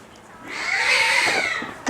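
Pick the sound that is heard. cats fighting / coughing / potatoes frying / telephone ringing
cats fighting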